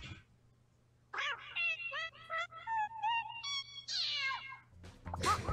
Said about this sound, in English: I turn all the notes into cat noises.